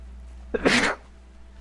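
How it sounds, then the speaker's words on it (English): A single sneeze lands close into a microphone during a video game session, a loud broad burst lasting under half a second against a quiet background hum. "Sorry for sneezing into the microphone."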